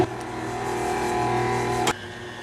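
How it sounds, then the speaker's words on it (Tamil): An electric whisk beats sugar and butter for a Sri Lankan butter cake, a steady close motor whine that cuts off abruptly near the end. "இப்போ நான் அந்த விஸ்கை போட்டுட்டு நல்லா க்ரீமியாக பீட் பண்ணி எடுக்க போகிறேன்"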